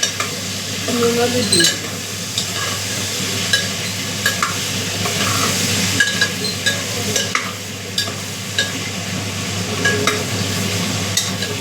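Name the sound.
potatoes frying in a pan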